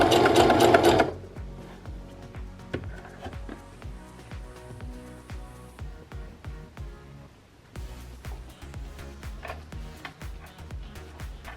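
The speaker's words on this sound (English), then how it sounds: "And then you just continue to sew it in." A sewing machine stitches a denim dog bandana in quick repeated bursts of needle clatter, starting with a louder whir, pausing briefly and then running steadily again, close and alone with no talking.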